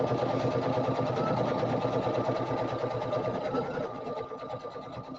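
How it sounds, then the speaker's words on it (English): A home sewing and embroidery machine stitches a buttonhole, its needle clattering in a fast, steady mechanical rhythm up close before easing slightly near the end, with no talking. "we'll let this buttonhole stitch out"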